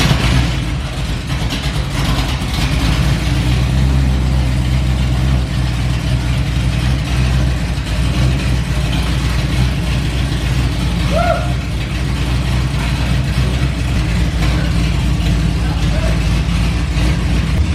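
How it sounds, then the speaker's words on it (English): A 454 big-block V8 in a 1969 Camaro idles steadily close by with open headers, loud and deep, a heavy low rumble with constant throb and no pauses throughout. "I'm gonna start it up to see what it sounds like with open headers."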